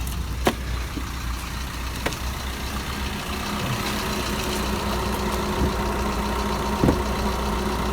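Maruti Suzuki Vitara Brezza DDiS diesel engine idling with the bonnet open, a steady low rumble heard up close with a few faint clicks and ticks over it.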